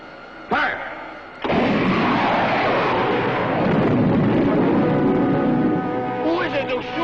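A spaceship weapon fires in a 1954 science-fiction serial: a short burst, then a loud, sustained roaring explosion rumble that stays heavy for several seconds before easing near the end.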